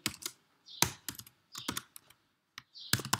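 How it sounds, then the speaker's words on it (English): Code typed in a text editor on a computer keyboard: quick irregular bursts of close, crisp key clicks with short pauses between them. "So for example, I'll just type system.out.println."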